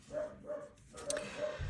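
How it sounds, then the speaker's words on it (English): Dogs bark faintly in the background outdoors, a few muffled repeated woofs at a distance with steady ambient noise. "Sorry if you can hear the dogs barking in the background."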